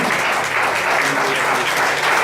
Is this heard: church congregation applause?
yes